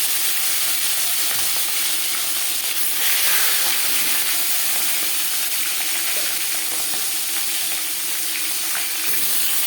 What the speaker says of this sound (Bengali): 4 চামচ রিফাইন্ড অয়েল গরম করে নিয়েছি। এবার দিয়ে দেব লবণ হলুদ মেখে রাখা মাছ।